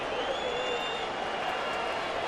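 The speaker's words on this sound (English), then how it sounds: "Crowd offering some encouragement to Felix." A baseball crowd in Seattle cheers encouragement for pitcher Felix during a 2009 Detroit at Seattle game, a steady wash of roaring and clapping that holds an even level throughout.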